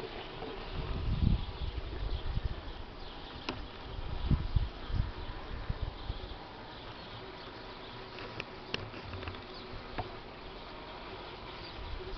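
Honeybees buzzing around a hive that lost its colony in early spring, a continuous close insect drone with scattered sharp knocks and handling bumps, loudest in the first half.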